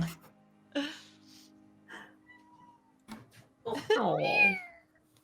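A cat meows several times in short, uneven cries, the last one longer and louder, close by with gaps of quiet between.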